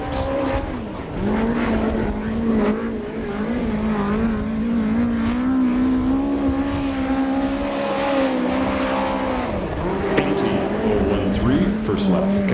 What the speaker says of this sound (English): First lap for Caps.